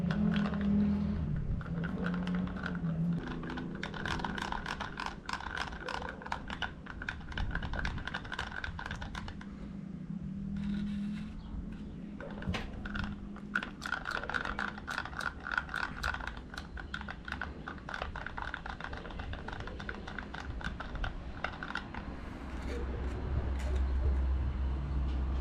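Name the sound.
mixing epoxy resin for a carbon fiber part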